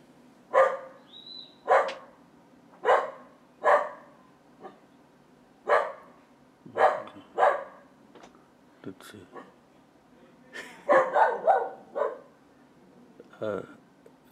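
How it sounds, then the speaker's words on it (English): A neighbor's dog barks repeatedly nearby, a dozen or so sharp single barks spaced about a second apart, then a quicker cluster and one last bark. "I'm pretty sure you all can hear the dog."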